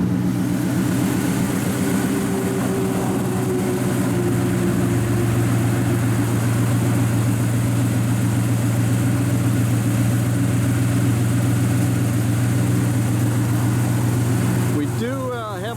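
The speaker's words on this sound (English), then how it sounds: "Fires right up." A 1972 Chevrolet Monte Carlo with a 300-horsepower 350 four-barrel V8 idles steadily and loudly, a deep even rumble close by that holds for the whole stretch before a brief change near the end.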